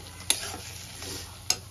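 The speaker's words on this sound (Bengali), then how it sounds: "আলু আর মশলাটা আমি ভালো করে কষিয়ে নেব" Potatoes and spice paste stir-fried in a pan for a fish curry, a soft continuous sizzle broken by two sharp spatula clicks against the pan.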